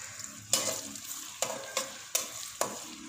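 Onions dropped into hot oil in a kadhai, a soft sizzle broken by four or five sharp scraping stir strokes at a steady spaced rhythm, close and clear with no talking.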